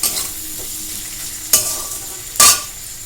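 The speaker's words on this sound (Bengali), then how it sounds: "আলুটা ভাজা হয়ে যাক" Potatoes sizzle and fry steadily in a pan, with a couple of sharp scraping stirs standing out above the constant crackle.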